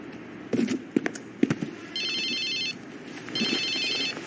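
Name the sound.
cell phone ringing in animated clip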